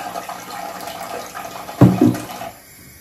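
Tap water runs steadily into a kitchen sink while used dishes are washed, with a louder splash and clatter near the end before the flow quiets.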